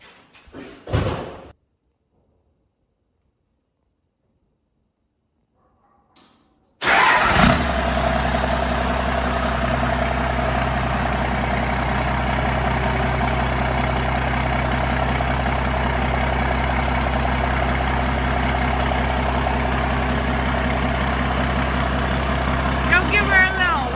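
An engine starts with a sharp burst, then idles steadily and loudly through a freshly welded exhaust with a new tip fitted, a deep even rumble after a brief knock and a few seconds of silence.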